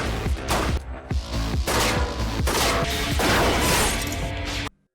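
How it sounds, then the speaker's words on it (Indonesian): Loud burst of film gunfire from a hidden sniper firing out of a neighboring building, with repeated sharp cracks and crashing impacts packed densely over about five seconds before cutting off abruptly. "Thomas dikagetkan dengan tembakan dari seorang sniper yang bersembunyi di gedung"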